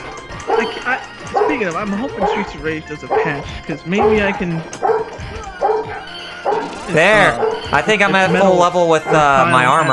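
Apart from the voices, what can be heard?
dog barking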